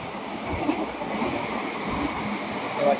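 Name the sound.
express train passing local train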